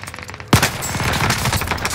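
Rapid LMG gunfire from the video game Call of Duty Warzone, a sudden loud burst of automatic fire that keeps rattling densely and steadily close up for about a second and a half.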